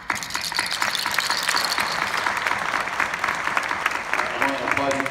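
Applause from a town hall audience at a county commission meeting, dense steady clapping sustained throughout with faint voices mixed in.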